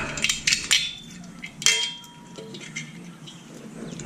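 Metal screws from a Yamaha Zuma scooter engine dropped into a metal bin in a workshop, a few quick bright clinks and rattles close by, then quieter scattered taps.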